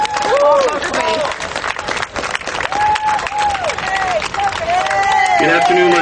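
A rally crowd in Harrisburg, Pennsylvania applauds and cheers for speaker Paul Topete, loud continuous clapping mixed with whoops, whistles and shouted voices throughout.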